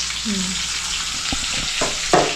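Onion frying in a hot pan gives a steady, close sizzle, with a few brief clicks and scrapes from stirring near the end and no talk.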